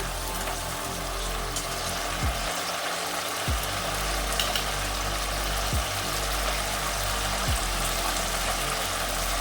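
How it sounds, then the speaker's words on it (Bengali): Tomato and sugar frying in a pan for pumpkin dhoka make a continuous, close sizzling hiss with a low steady hum beneath and a few soft scraping strokes. "তাহলে টমেটো আর চিনিটা ভালো করে ভেজে নিচ্ছি"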